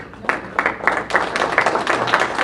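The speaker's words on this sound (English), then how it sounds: "big round of applause for all of our investors at the meeting" Audience at a real estate association breakfast meeting claps for investors, the applause building from scattered claps into a steady, dense patter that holds through to the end.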